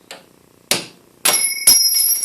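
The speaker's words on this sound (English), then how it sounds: "Bigger hammer." Hammer blows on a steel drift knocking a drill chuck loose, three or four sharp metallic strikes with the last ones ringing on, close and loud.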